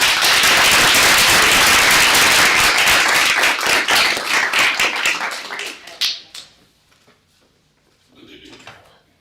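Audience at a law school moot court competition bursts into loud, dense clapping that holds steady for about six seconds, then thins to scattered claps and fades into a quiet room.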